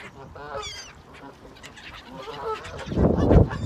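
Ducks and other birds at a village pond give honking, quacking calls, a few near voices early on and a louder flurry of squawks toward the end, with faint background noise.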